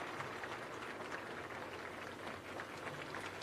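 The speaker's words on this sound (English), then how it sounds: "Let us give it a round of applause again." A crowd applauds at a ribbon-cutting launch ceremony, a steady, dense patter of clapping that sounds faint and distant, with no talk over it.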